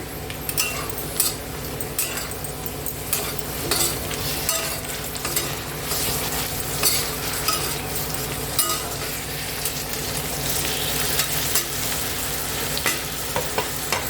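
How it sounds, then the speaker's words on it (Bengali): Potato pieces and eggplant fry in oil in a pan with a constant bright sizzle, punctuated by frequent scraping and clinking of a spatula stirring them, close and steady throughout. "আলুগুলো অনেকটাই ভাজা হয়ে গেছে, এবার আমি এর মধ্যে বেগুন দিয়ে দিচ্ছি"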